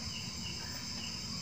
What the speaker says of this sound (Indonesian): Suara kodok ya Mbak Un ya.